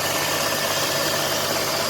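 A Jeep engine idles steadily under an open hood, a loud, close, continuous mechanical drone with a faint rhythmic knock and vibration throughout.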